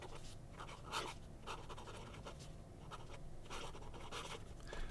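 A vintage Waterman fountain pen with a flexible nib scratches across paper in short, irregular strokes, faint and close, with no talking.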